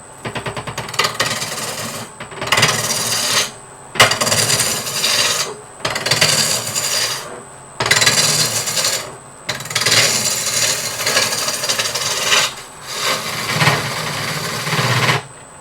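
A woodturner works a lathe with the Big Ugly skew chisel, making the same cut again and again. Close, loud rasping bursts a second or two long are broken by short quiet gaps, with no voices.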